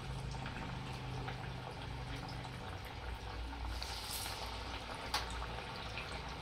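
Dal vadas, crispy lentil fritters, frying in hot oil on a medium gas flame give a steady, close bubbling sizzle that runs unbroken through the whole stretch, with no voices.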